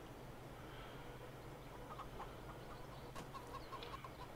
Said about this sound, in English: I've got chickens all over my yard, Luke.